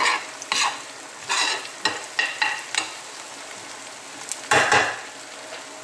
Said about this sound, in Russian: Отправляем куриное мясо вареное. И жарим теперь с ним.